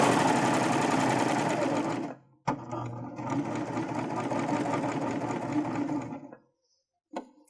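A sewing machine stitching a fabric seam on a drawstring backpack: a steady, close whirring hum with rapid needle clatter in two long runs separated by a brief pause, then a short final burst.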